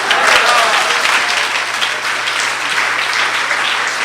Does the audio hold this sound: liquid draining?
no